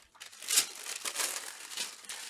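Tissue paper from a slow stitching craft kit crinkles close by in a steady series of crisp rustling bursts for a couple of seconds, with no voices.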